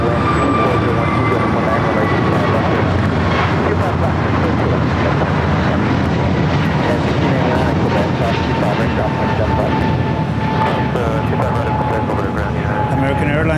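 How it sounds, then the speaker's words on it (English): An American Airlines Airbus A321neo at LAX produces a loud, sustained jet roar with a faint rising whine, dominating the scene while people speak over it. "American Airlines 1659 going to Dallas Fort Worth on an Airbus A321neo, 2 years old"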